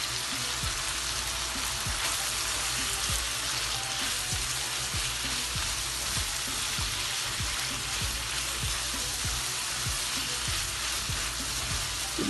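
Kaleji (goat liver) with garlic, ginger and spices frying hard over full, high heat, a dense, steady sizzle with continuous crackle and bursts of spitting oil throughout, loud and close with no talk.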